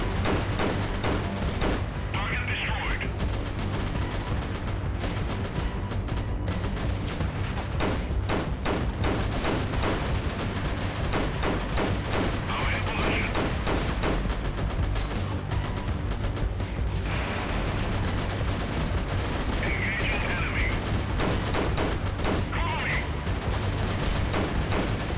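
Sustained light machine gun fire with .50 caliber rounds in a Mount and Blade first-person shooter mod: dense, loud, nearly continuous bursts of shots that run the whole time, with rumbling impacts underneath and no clear talk.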